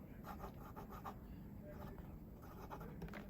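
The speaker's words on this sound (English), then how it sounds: "let's dip it a bit and try this medium nib" A medium 18 karat solid gold fountain pen nib, on a Corsani celluloid pen, scratches softly across paper in short repeated strokes, faint and close.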